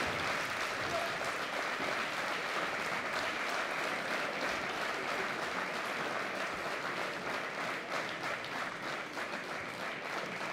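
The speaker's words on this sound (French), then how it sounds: "ils applaudissent le public" Spectators at a padel tournament, the Human Padel Open 2022, applaud steadily in a dense, sustained wash of clapping, with a voice speaking faintly underneath.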